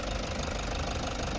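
A repaired Toyota Hi-Ace 1KD diesel engine idles close by with a steady, even clatter and hum.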